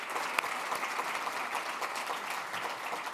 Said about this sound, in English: I want to give a round of applause to you and your team